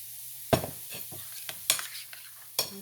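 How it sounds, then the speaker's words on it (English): Vegetables are stirred in a pan over the heat, with a handful of distinct utensil scrapes and clinks against the pan over a faint, low sizzle. "let me stir my vegetables"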